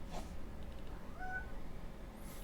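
A cat in the survival video game Icarus gives a single soft meow, quiet and brief, with faint background ambience and no talking.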